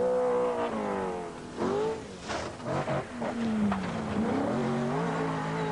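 A 1980 rally car driven by Tony Pond at the Welsh Rallysprint revs hard and loud up through the gears, with rising and falling engine pitch and a brief dip as it changes gear.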